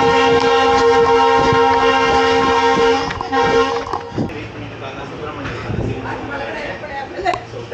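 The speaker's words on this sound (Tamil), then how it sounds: "ஃபைனலி ட்ரெயின் எடுத்துட்டாங்க." A Yesvantpur to Mangalore Express train sounds a loud sustained horn with steady tones, which cuts off as the rumble and clatter of the train getting under way take over, close by, with voices chattering around.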